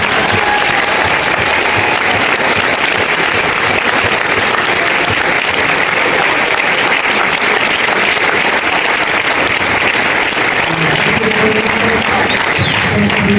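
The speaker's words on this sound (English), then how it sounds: "So can I have one more big round of applause for all of our guests?" A large audience at a veterans assembly claps and cheers in a loud, sustained ovation that stays strong and unbroken throughout, with voices faintly mixed into the crowd noise.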